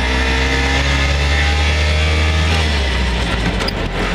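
A Velam Isetta microcar's small engine drones loud and close while driving, a steady buzzing engine note with rising pitch as it pulls along, alone without talk.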